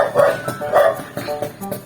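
A dog at a small sari-sari store barks several times in quick succession, close and loud.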